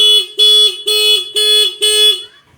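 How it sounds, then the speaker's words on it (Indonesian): A WDA anti-theft alarm on a Honda CBR 150 motorcycle sounds loud and close in five evenly spaced, buzzy siren bursts, then cuts off. "Saat alarm berbunyi kita sentuh sensornya."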